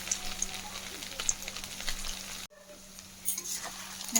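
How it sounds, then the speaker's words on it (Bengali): Cubes of paneer fry in oil in a pan over a low gas flame, giving a steady close sizzle that briefly cuts out mid-clip before resuming. "একটু লাল লাল করে এইভাবে পনিরগুলোকে একটু ভেজে নেবো"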